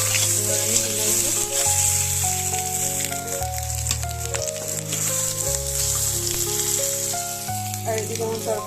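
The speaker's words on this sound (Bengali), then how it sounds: "ডিমটা খুব সুন্দর করে লাল লাল করে ভাজা করে নেবো।" Eggs fry in a pan with a loud, steady hiss and crackle throughout, while music plays along underneath.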